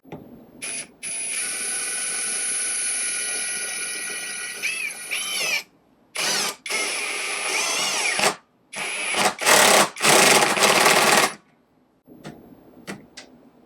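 A 21V brushless impact driver whines as it drives a screw into wood, then breaks into rapid hammering bursts in several loud, stop-start stretches before falling quiet.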